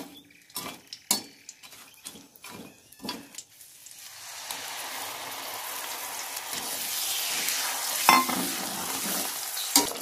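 Masala frying in a pan for paneer curry: spoon clatters and stirring scrapes come first, then tomatoes go in and a steady loud sizzle builds and holds, with a couple of utensil knocks near the end.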